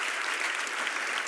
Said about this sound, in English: they deserve an applaud for that